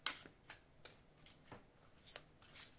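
Oracle cards being shuffled and drawn, a run of crisp, evenly spaced riffling flicks and snaps, close and fairly quiet, with no talking.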